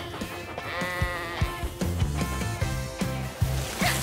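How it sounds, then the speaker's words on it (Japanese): Sheep bleat repeatedly, close and loud, in a series of wavering calls over a busy background. "う気をつけてね羊さん"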